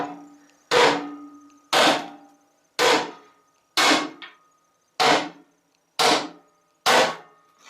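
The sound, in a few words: hammer striking a snowblower gearbox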